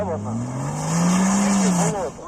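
Off-road four-wheel-drive vehicle on mud-terrain swamp tyres with automatic transmission during a forest challenge, its engine droning close and loud as the pitch rises and falls with throttle, a voice talking over it.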